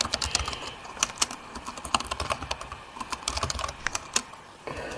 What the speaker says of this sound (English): And I'm typing over something